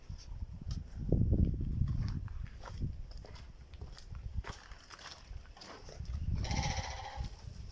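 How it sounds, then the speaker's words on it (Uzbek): Sheep and lambs bleat several times at close range, amid shuffling hooves and rustling from the flock. "Mana bu yerda qo'zichalar hammasi qo'ylar"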